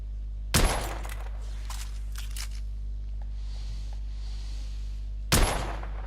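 Two sharp, loud gunshots from a firearm in the video game The Order 1886, spaced several seconds apart, with a low steady hum and faint clicks between them.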